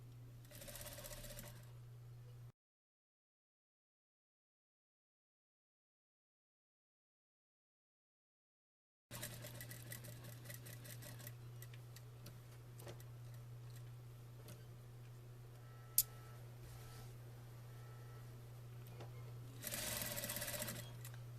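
A sewing machine stitches a pillow with cording, running in a steady fast mechanical hum and tick, close and clear, stopping into silence for several seconds before starting again and carrying on to the end.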